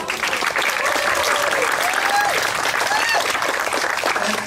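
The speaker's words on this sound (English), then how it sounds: "it's well worth it to give her a big round of applause" A big round of applause from the crowd at the annual Miss & Mr. Wood Chip Contest in Rangeley, Maine: dense, loud clapping that runs steadily throughout, with scattered voices mixed in.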